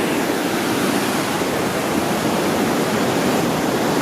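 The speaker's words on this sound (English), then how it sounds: "That's where the Niagara Falls start falling." Niagara Falls water rushes over the brink in a steady, loud, broadband roar that stays constant and unbroken throughout.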